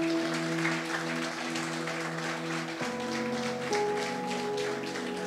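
Steady congregational applause during a Catholic preaching service, a dense even wash of clapping lasting several seconds with sustained tonal hum from instruments or a sound system underneath.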